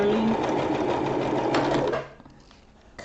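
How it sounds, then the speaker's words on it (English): A home sewing machine stitches a rope bowl with embroidery, running steadily and close for about two seconds before stopping abruptly, leaving faint room noise. "my sewing machine is fighting me tonight"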